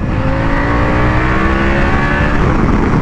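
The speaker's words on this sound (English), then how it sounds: "it just revs out and it just gets faster as she revs" A loud, close Harley-Davidson motorcycle engine revs continuously as it accelerates, its pitch climbing steadily with strong rumbling wind noise.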